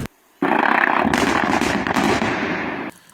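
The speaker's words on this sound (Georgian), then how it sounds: "ეს აფეთქება რო იყო, ეს კლდია აფეთქეს?" A rock cliff blast in a gorge: a sudden loud crack and rumbling roar lasting a few seconds with a second burst, then fading to quiet.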